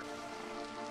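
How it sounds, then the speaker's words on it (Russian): Steady rain and storm ambience in the survival game Beasts of Bermuda, a dense, even hiss of rainfall on surfaces that fills the whole moment without pause or voices. "Идет дождь в Бермуде, гроза"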